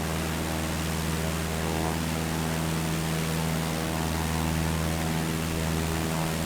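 Steady drone of a Cessna 152's piston engine and propeller in Microsoft Flight Simulator 2020, held at reduced power, a constant humming buzz with no talk.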